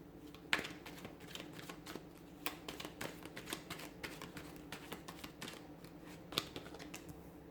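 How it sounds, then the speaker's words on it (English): Tarot cards being shuffled in a steady, papery riffling rhythm with sharper snaps now and then, close and fairly quiet, no talking. "we'll give the cards a shuffle"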